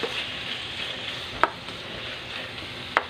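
Small pork cubes frying in a pan for batchoy give a steady, close sizzle throughout, with two sharp utensil clinks against the pan.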